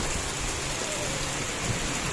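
Heavy rain pours down steadily in a dense, even hiss with no breaks, close and fairly loud, with low rumbling underneath and no voices.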